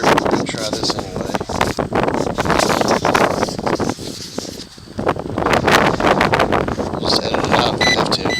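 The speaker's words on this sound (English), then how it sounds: "The wind's probably too loud for you to hear" Gusty wind buffets a microphone outdoors at a wooded Civil War camp site, a steady loud rumble with rustling, dipping briefly midway before picking up again, with speech underneath.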